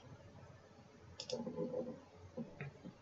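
Mouse clicks while saving a file in Photoshop: a couple of quick, faint clicks close to the microphone in a quiet room.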